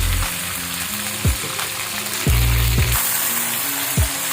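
Oil and onions sizzle steadily in a pan ahead of boneless chicken for a spicy chicken spaghetti, with a few sharp clatters of a spoon against the pan over the constant frying hiss.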